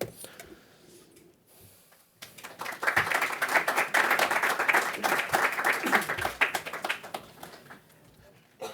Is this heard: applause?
yes